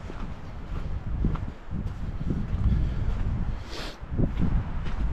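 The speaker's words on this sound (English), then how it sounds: "I think the wind's picked up." Wind gusting across an outdoor park, rumbling buffets against the microphone that rise and fall over a few seconds, with faint rustling and no speech.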